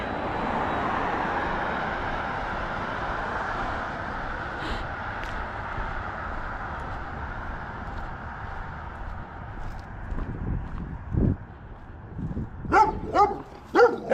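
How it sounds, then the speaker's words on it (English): An older dog barking from the next driveway during an afternoon walk, several sharp barks close together near the end after a long stretch of passing-car and ambient outdoor noise, no talking. "we'll see if that barky dog is out here"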